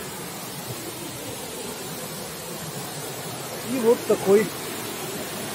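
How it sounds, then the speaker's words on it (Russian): A loud waterfall in the Carpathians gives a constant, even rush of falling water in the background, and a voice speaks briefly over it near the end. "переходим к самому водопаду. Очень шумит, очень красивый"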